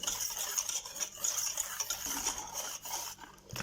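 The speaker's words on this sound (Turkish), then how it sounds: "Şöyle suyumu devamını da koydum karıştıralım." A spoon stirs water into a dessert mixture in a bowl, quiet rhythmic scraping and clinking against the bowl, close and continuous.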